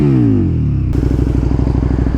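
A KTM 1290 Super Duke R engine in sport mode sweeps down from a high rev, then settles into a loud, close, lumpy idle with a steady pulsing throb.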